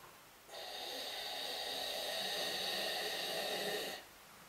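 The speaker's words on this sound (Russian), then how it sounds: "И получается такой гортанный звук." Guttural breathing drawn through the nose with the mouth held open, one long steady breath of about three and a half seconds, close and fairly loud, with a hoarse, throaty rasp.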